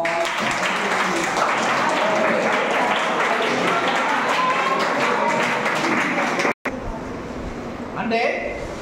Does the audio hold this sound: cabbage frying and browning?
no